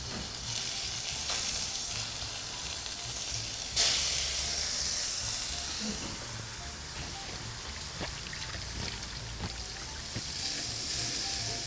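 Filet mignon searing in a thin film of hot oil, a loud, steady, close sizzle with crackling pops and occasional stirring scrapes, and no one speaking.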